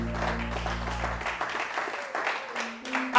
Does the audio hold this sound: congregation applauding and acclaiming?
yes